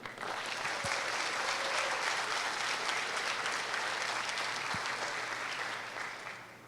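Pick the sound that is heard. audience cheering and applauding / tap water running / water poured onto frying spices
audience cheering and applauding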